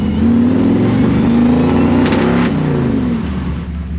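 A car engine revs loudly and close, rising and falling in pitch with a throaty roar, no voices.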